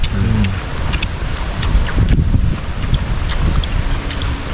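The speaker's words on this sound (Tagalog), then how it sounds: "Mahangin kasi." Steady wind blows outdoors beside a river in open country, a loud, continuous low rushing with microphone buffeting and no speech.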